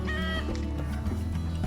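Chickens clucking and murmuring close by, with short rising calls over a steady low background hum; no talking.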